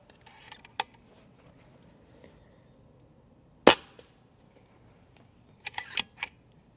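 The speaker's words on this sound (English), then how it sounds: "I'm going to single load a couple pellets and shoot them" An Airacuda Max air rifle fires small single-loaded pellets with one sharp, loud crack near the middle. A smaller snap comes before it and a quick cluster of clicks follows, all against a quiet outdoor background.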